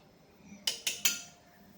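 Three quick metallic clinks of a spoon against a pot while Maggi paste is stirred, evenly spaced and fairly close, with quiet background otherwise.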